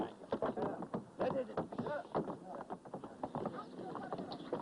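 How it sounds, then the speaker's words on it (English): Stallions' hooves clatter and knock as the horses board a local river ferry three at a time, a busy run of irregular clopping mixed with talking nearby. "The stallions cross 3 at a time on the local ferry"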